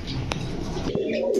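Pigeons of Pakistani breeds kept for sale give a brief, low, throaty coo close by, over a steady background of rustling and murmur.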